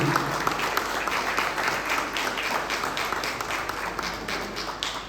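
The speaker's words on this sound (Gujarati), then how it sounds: "તાળીઓના ગડગડાટથી" An audience at an annual community function of the Vadodara Gujarati Kansara caste association breaks into steady, rippling applause, a crowd clapping at moderate distance throughout, with a low hum underneath.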